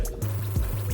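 Water from a drip coffee machine trickles down through a paper filter, a soft steady liquid fill with faint drips beneath a low hum, close by and quiet.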